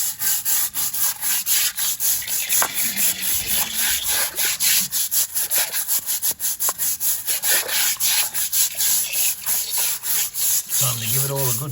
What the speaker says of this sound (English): Time to give it all a good scrub.